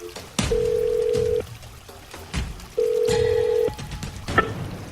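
Telephone line tones during a call being connected: two long steady beeps, each about a second, separated by short clicks and rustles, fairly loud and close with no talk.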